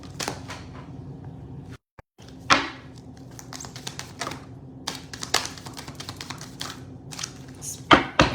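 Crisp rustling and snapping of tarot cards being shuffled, several bursts with short taps between, close and fairly quiet, no talking.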